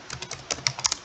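Keystrokes on a computer keyboard while typing code, a quick irregular run of close, crisp clicks with a few louder taps near the end.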